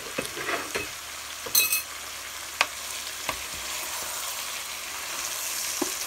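Fio fio pigeon peas being mixed with achicha, a close steady hiss with occasional scrapes and knocks of a spoon against the pot.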